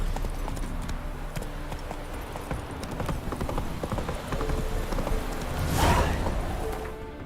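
Geralt's horse Roach from the game The Witcher 3 trots along with a steady clip-clop of hooves, close and continuous, as a brief whoosh swells near the end.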